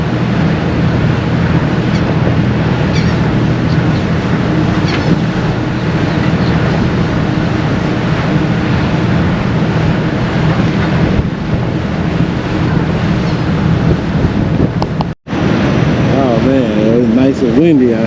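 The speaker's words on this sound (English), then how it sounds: "Nice and windy out here." Strong wind buffeting the microphone mixes with the steady rumble of a ferry engine and water on an open deck on the Outer Banks, North Carolina, a loud continuous roar with a brief dropout near the end.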